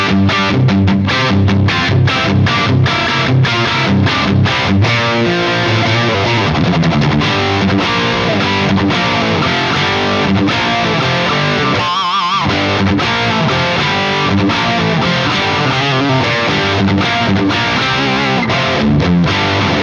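Electric guitar played through a Bugera 1960 Infinium valve amp, a plexi-style head, with a thick distorted British tone; loud, dense chords and riffs ring continuously with rhythmic attacks and a brief dip near the middle, no voices.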